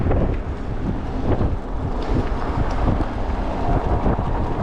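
Constant wind buffeting the microphone on a cold ride at about 20 mph, a loud, low, rough rumble that stays steady throughout, with no talking.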